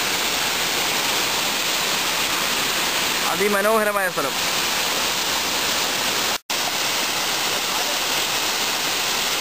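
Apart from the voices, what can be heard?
water falling from Peechi Dam spillway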